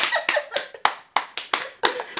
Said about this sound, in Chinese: 给自己一个掌声